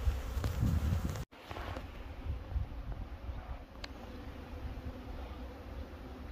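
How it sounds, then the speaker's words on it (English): A steady, soft drone of many honeybees buzzing outdoors on cleansing flights in 47°F weather, with a faint wind-like hiss and one sharp click near the start. "the bees are doing some cleansing flights."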